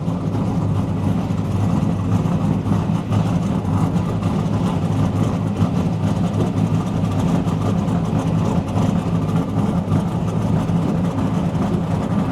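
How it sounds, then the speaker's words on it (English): A car engine runs steadily and close by, a constant low rumble with a mid-range drone that holds without a break throughout. "Hear the car coming."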